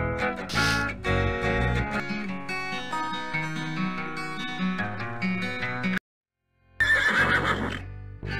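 A horse whinnies in a video game set in a rural stable with hay, layered over swelling orchestral music, then a short silence before a brighter musical passage with another horse cry.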